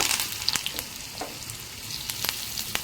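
Curry leaves with onions fry in a mustard-seed tempering for kurma, a steady close sizzle punctuated by sharp pops and crackles and a few light stirring scrapes.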